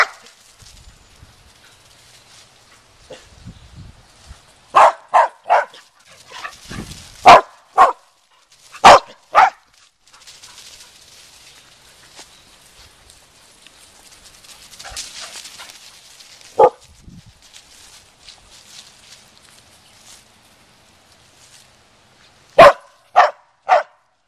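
A dog out chasing squirrels barks in sharp, loud bursts, scattered singly and in quick pairs across a quiet outdoor stretch, with a cluster near the middle and another at the end.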